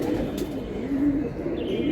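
Pigeons coo in a low, continuous murmur, a pair of silver Pankhi-type birds close by with steady soft throaty calls running throughout.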